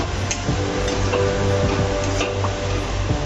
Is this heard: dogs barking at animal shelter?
no